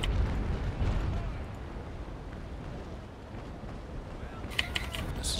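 Naval cannons loose a broadside of chain shot during a ship battle in a multiplayer naval video game, a dense rolling roar of overlapping booms with a sharp crack near the end, all fairly quiet and distant.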